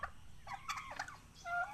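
A turkey gobbles once in a brief, faint, rapid warbling burst, heard alone and fairly distant.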